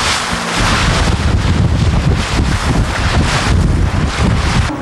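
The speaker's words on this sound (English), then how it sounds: "We reluctantly boarded the Zodiacs for the chilly ride back through the icebergs." Zodiac inflatable boat riding back through icebergs in Antarctic wind, with loud constant wind buffeting the microphone over engine and water rush, no voices.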